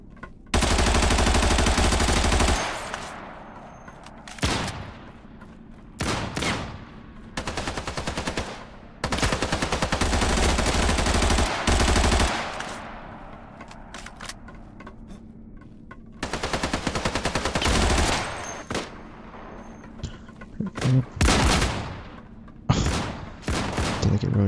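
Gunfire in the battle royale game Islands of Nyne comes as loud bursts of automatic fire and single shots, some sustained for seconds, separated by quieter gaps with no talk.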